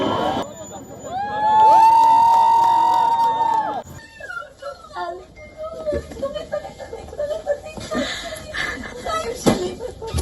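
Emotional crowd of families cheers and screams as Israeli hostages are freed and return home, a loud swell of voices that peaks early, then breaks into scattered shouts, sobs and chatter.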